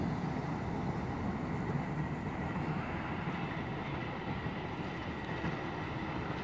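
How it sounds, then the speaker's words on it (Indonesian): KA Turangga passenger train crosses the Cisalada railway bridge near Purwakarta, a steady loud rolling rumble of wheels on rails that holds without break for the whole stretch, with no voices. "Turangga tujuan akhir stasiun Gambir telah melintasi jembatan Cisalada."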